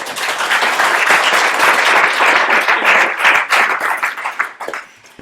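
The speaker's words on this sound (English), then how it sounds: "So, give a round of applause for..." Audience at a sentencing research symposium clapping for an introduced speaker: loud, dense applause from a room of people that holds steady and then tapers off and stops after about five seconds.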